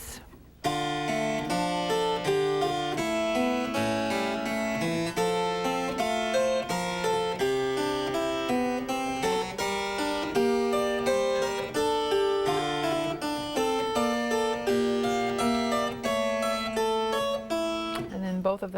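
A keyboard instrument played on its second set of strings, a continuous stream of bright, overlapping plucked or struck notes with steady rhythm and ringing harmonics, loud and alone with no talk.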